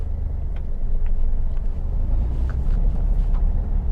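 Car engine pulling through first and into second gear as the driver upshifts, a loud low rumble that swells and eases with the gear changes, heard close from inside the cabin.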